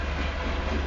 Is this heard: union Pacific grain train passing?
yes